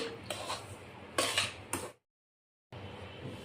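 Semolina, powdered sugar and cardamom powder being mixed for laddu, with a few clattering scrapes and knocks of a spoon against a metal bowl, a short silent gap, then softer scraping.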